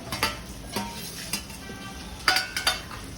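Spoon stirring fried okra and potatoes into cooked spices in a pan for a bhindi batata sabji, with scraping clinks at an irregular pace, close and moderately quiet, no talking.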